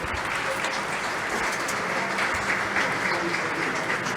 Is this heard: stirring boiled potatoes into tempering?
no